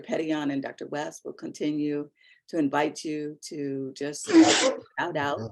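A single sharp, loud sneeze bursts out near the end, during a welcome on an online panel about juvenile justice care, between stretches of a person speaking.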